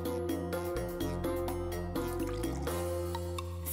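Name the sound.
water poured onto broccoli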